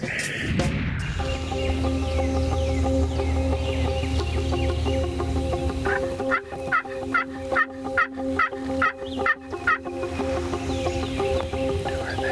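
Wild turkeys gobble in the Florida outdoors, a rapid series of rattling gobbles repeating at a moderate distance over steady background hum, with no talk.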